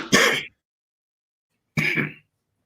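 Two short, loud throat-clearing coughs from one person, close to the microphone and separated by about a second of silence.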